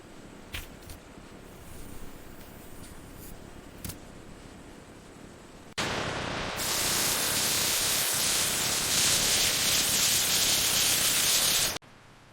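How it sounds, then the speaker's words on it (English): A John Deere tractor cooling fan spins up during a factory spin test, heard as a sudden loud, steady rushing whoosh after a few faint clicks, holding for several seconds before cutting off abruptly. "Fan is spinning up, RPMs are good"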